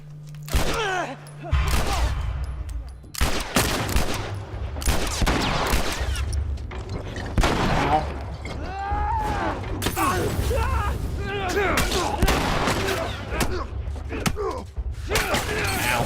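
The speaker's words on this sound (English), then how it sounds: "Oh, he pulled out a Molotov right as I shot him." Gunfire and mechanical clatter from The Last of Us gameplay: repeated loud shots and impacts scattered over a dense, busy game soundscape, with talking in between.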